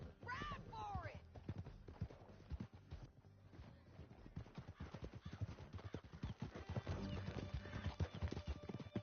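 Horses galloping in Red Dead Redemption 2, rapid rhythmic hoofbeats close and steady throughout, with a horse whinny early on and voices talking over the ride.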